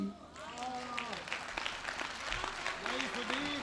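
An audience applauds at a Hindi comic poetry gathering, a dense spread of clapping heard throughout under a voice talking over it.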